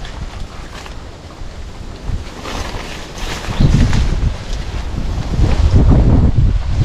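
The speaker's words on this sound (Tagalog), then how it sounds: "Sobrang hangin ano" Strong wind buffets the microphone in a continuous roar that swells louder toward the end, with waves faintly beneath and no speech.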